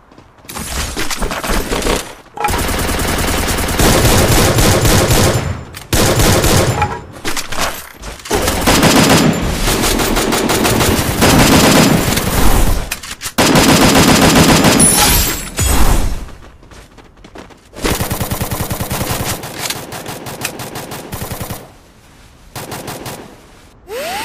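M4A1 and MP40 gunfire in a solo-versus-squad shooter video game: loud, rapid automatic bursts in several long volleys separated by brief pauses, with sharp single shots and a few impact crashes.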